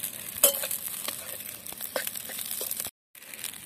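Potatoes and green chillies frying in a pan for sabudana khichdi, stirred continuously, giving a steady close sizzle with soft scraping and crackling, broken by a brief silent gap.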